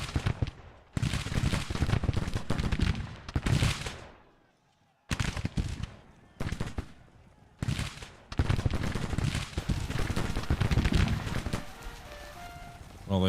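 Rolling infantry volley gunfire in the Civil War strategy game Grand Tactician, loud bursts of massed musket shots in several waves separated by short pauses, close and dense, with no talk over it.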